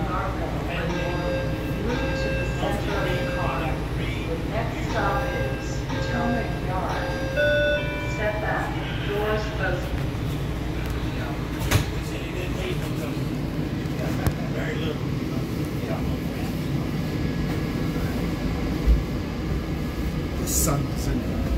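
Kawasaki 7000-series DC Metro Blue Line train riding between King Street and National Airport, a steady loud interior rumble with motor whine and tonal hums, faint chimes early on, and people talking throughout.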